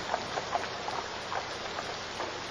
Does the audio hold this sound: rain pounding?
yes